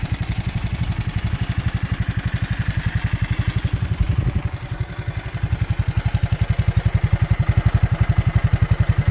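A Honda 185S motorcycle with a new headlight and factory hitch idles steadily up close, its single-cylinder engine firing in an even, rapid putter with a brief dip partway through, no voices over it.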